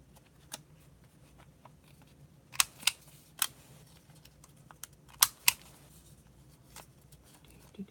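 A handheld corner rounder punch trims card corners for an altered composition book, giving a few sharp, close clacks in pairs, with faint handling noises between them in a quiet room.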